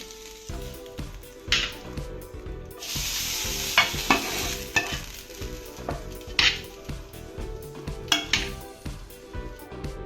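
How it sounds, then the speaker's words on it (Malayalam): Mustard seeds crackle and splutter in hot oil while a spoon scrapes and clinks against the pan in irregular bursts. "കടുക് പൊട്ടിച്ച് നമുക്ക് ഇതിലേക്ക് ഇട്ട് കൊടുക്കാം നമുക്ക് നന്നായിട്ട് മിക്സ് ആക്കാം"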